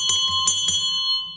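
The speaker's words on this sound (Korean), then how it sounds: "닭소리는 아니지만 종소리가 울렸어요." A bell rings out in a church during a Sunday evening service, three bright metallic strikes in quick succession with a sustained ringing tone that fades away, heard alone without talk.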